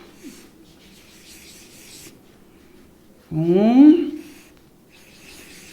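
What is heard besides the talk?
drawing six lollipops on paper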